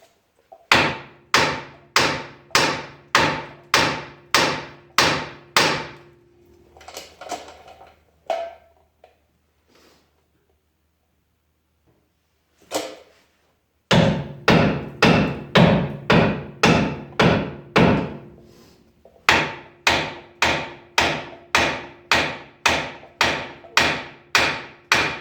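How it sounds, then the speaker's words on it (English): A hammer whacks a rusted, corroded CV axle on a Ram 1500. Rapid runs of loud metallic blows are broken by a few scattered knocks and a long quiet pause, then more strike series follow. "with all that rust and corrosion, you do got to give it a few good whacks. That'll separate it."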